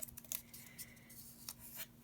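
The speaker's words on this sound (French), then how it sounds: "vous prenez une paire de ciseaux" Scissors cutting along the folds at the corners of a cardboard box for an accordion. A few short, close snips sound over a faint steady hum.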